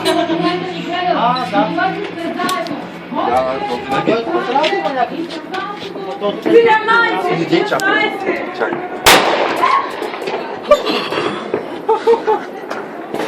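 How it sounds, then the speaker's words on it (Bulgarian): Fireworks pop and crack outdoors, including one sharp loud burst, amid excited chatter, laughter and voices of a crowd celebrating close by. "И заря има от среща."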